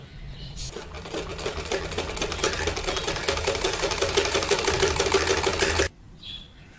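A sewing machine stitches a seam on a boy's kameez, its rapid needle rhythm building from a slow start into a steady loud run, then stopping abruptly, with faint room noise after.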